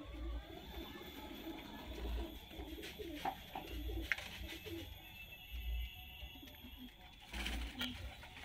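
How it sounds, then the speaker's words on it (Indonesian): A wulung pigeon coos in a cage, low repeated calls heard faintly amid quiet background noise and occasional soft thumps. "Untuk yang dia di dalam ini merpatinya merpati wulung."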